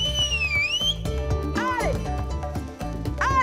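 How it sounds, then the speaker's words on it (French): A person outdoors in the Morvan countryside whistles to call animals, with a long sliding whistle near the start and rising and falling whistled calls later, mixed with other voices and background sounds. "Je vais siffler pour les faire venir."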